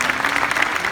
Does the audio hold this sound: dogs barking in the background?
no